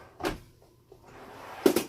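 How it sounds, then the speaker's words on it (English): A cupboard drawer on full extension slides in an RV kitchen opens and closes, giving two short, close clunks about a second and a half apart with a faint click between them. "All of our cupboards have full extension drawer slides."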